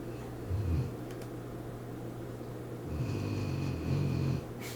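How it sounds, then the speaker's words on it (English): A person snores loudly and steadily, with long rumbling breaths repeating in slow cycles against a quiet room hum. "She's been snoring for so long."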